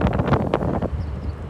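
Strong outdoor wind buffets the microphone in loud gusty roars that fade after about a second.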